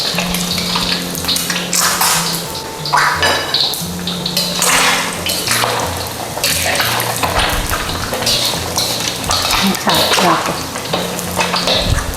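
Steady sizzling and crackling of an egg frying in hot oil in a stainless steel pan, with occasional stirring and utensil clinks throughout.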